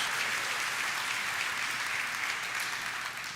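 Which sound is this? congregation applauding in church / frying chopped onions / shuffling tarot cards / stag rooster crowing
congregation applauding in church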